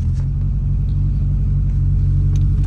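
A boxy turbocharged VW Gol on 18-inch rims idles in second gear with the clutch held down, giving a loud, steady low engine rumble with no breaks.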